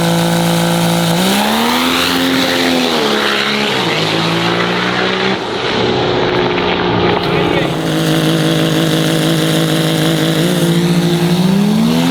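Diesel race trucks at a drag race, including a 6.0-powered truck, roar continuously at high volume, with engine pitch rising and falling as they run down the track; people talk faintly under the steady din.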